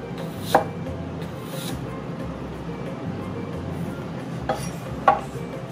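A knife chops onion into small pieces on a board, a few sharp isolated knocks spaced apart over a low steady background hum.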